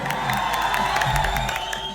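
A crowd cheers, whoops and claps for actress Niruta Singh, a loud, dense, continuous roar of voices and applause with no single speaker standing out.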